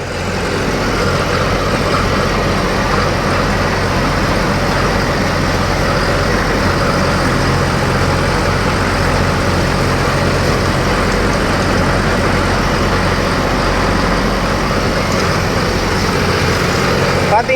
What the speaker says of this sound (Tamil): இத்தனைக்கு வாழை ஓடிக்கிட்டு இருக்குது இருபது ஆர்பிஎம்ல வந்து வச்சு ஓட்டிகிட்டு இருக்கிறாங்க